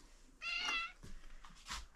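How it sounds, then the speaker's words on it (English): A cat meows once, loud and close, in a fairly quiet room, with faint softer sounds and a brief thump after the call. "You brought a cat with you, didn't you?"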